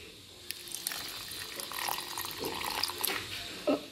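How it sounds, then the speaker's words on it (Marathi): Water pours into a mixer jar of cream being churned into homemade butter, a brief splashing trickle close by with small clinks near the end. "आता यामध्ये टाकूया साधारण 1 कप पाणी"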